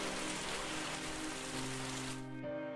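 Heavy rain pours steadily in a dense, even hiss throughout, with a low tonal music drone underneath that shifts near the end as the rain cuts off.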